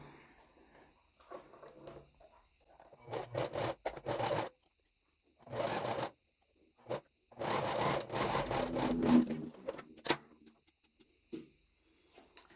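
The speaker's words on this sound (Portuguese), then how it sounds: "eu vou passar aqui uma costurinha de zigue-zague" A sewing machine zigzag-stitches fabric for a swimmer-style bra, running in several short bursts separated by pauses, fairly quiet and close.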